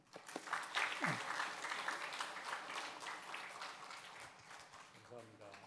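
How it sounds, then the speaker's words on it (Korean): Church congregation applauding to welcome an elder, a broad steady wash of clapping throughout, fairly near, with some voices mixed in. "장로님 우리 박수로 환영하겠습니다."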